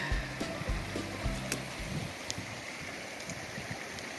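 A snowmelt-fed mountain creek crossing in a forest at roughly 11,500 feet on Mount Evans gives a steady broadband rush of flowing water mixed with wind, with a few low thumps early on.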